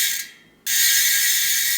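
A polished Profile Racing rear hub freewheels on a BMX bike, giving a steady, loud, fast ratcheting buzz after a brief pause. The sound runs continuously and close to the mic, with no talking.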